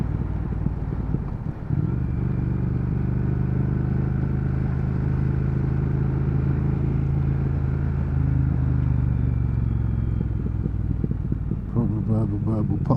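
A 2019 Triumph Speed Twin motorcycle engine rumbles steadily close by, with a deep exhaust burble throughout and a few irregular pops and crackles near the end, with no talk over it.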